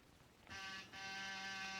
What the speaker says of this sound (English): Then I rang his buzzer.